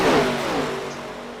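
Race cars accelerating at Daytona in a sim racing broadcast of the Grayson ARCA Series, a loud, steady engine roar that fades slightly as the cars pass.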